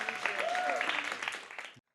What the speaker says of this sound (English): give a nice little round of applause for Maya